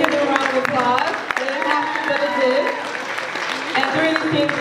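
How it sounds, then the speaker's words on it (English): A poetry slam crowd applauds in a steady, dense wash of clapping that fills the room, with voices and cheers mixed through it. "let's give them a round of applause"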